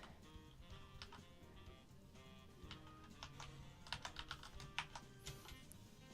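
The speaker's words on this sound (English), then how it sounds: "I hate typing these in" Computer keyboard keys clack in quick bursts of typing, quiet at first and growing denser and louder toward the end, over a steady background hum of game music.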